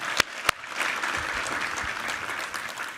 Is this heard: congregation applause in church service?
yes